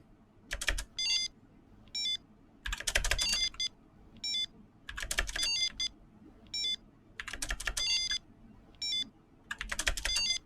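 A spacebar is hammered in quick bursts of clicky keypresses while someone plays a Sonic fan game, with repeated clusters of taps separated by short pauses and faint game sounds underneath.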